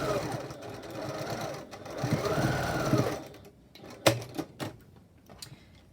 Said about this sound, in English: and then again stitch it through